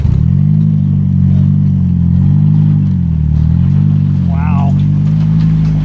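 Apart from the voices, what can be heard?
Polaris Slingshot engine revving while pulling boat trailer from water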